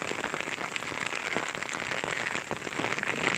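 Steady rain patters on a surface, a dense even hiss with scattered sharper drops, continuous throughout with no voices.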